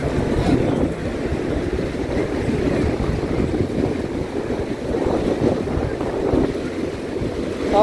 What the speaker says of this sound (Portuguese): E ainda tá aquele vento forte, sabe?